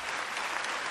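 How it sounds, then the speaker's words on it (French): An audience at a political party congress in France breaks into steady, loud applause, dense clapping from a large crowd filling the hall without a break. "Et je pense qu'on peut l'applaudir très fort."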